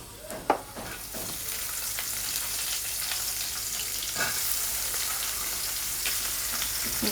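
Onions fry in hot oil for a village-style tengra fish kalia, giving a loud, steady, close sizzle throughout, with a sharp utensil clatter near the start and no speech.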